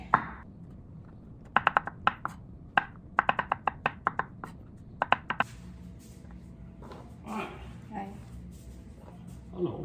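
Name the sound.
cutting fresh mushrooms with a knife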